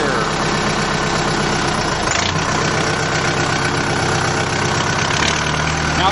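Tractor engine idling through a 2.5-inch exhaust stack salvaged from an orchard-vineyard model, a steady close rumble with a brief shift in tone partway through, no talk.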